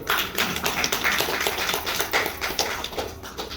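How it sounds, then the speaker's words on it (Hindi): Audience at a Hindu religious katha gathering clapping steadily, a dense, continuous patter of many hands at moderate volume with no talk over it. "ताली हो जाएगी"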